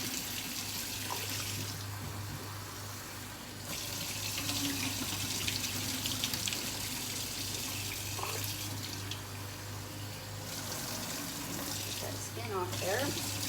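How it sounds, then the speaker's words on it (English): Tap water runs steadily into a can while beans are rinsed for a summer salad, a continuous close splashing stream that pauses briefly partway through, with light clinks near the end. "I fill the can up with water and I do the same thing 4 or 5 times until my beans run clear"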